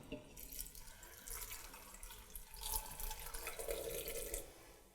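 Water pours from a tap-like stream into the bottom of an Instant Pot pressure cooker fitted with a steamer basket, a steady close splashing trickle that swells midway and runs throughout with no talking.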